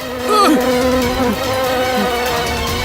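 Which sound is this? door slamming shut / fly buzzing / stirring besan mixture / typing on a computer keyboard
fly buzzing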